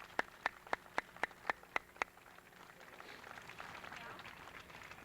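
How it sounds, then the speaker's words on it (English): At a totem pole dedication ceremony, a few evenly spaced single claps ring out, then a faint, distant wash of crowd applause swells and carries on. "Let's give them a round of applause."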